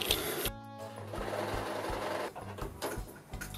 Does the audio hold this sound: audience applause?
no